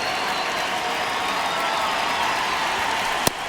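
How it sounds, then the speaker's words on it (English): A stadium crowd in the baseball video game MLB The Show 26 keeps up a steady, even roar of cheering and applause, with a single sharp tick near the end. "The crowd here has been fired up even before the first pitch for this series"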